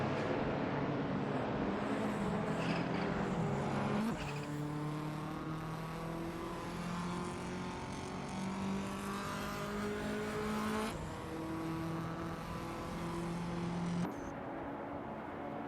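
AI-driven sportscars, including a Toyota, race around a circuit in a racing video game, with loud continuous engine drones rising in pitch through gear changes and shifting abruptly between cars, and no talk.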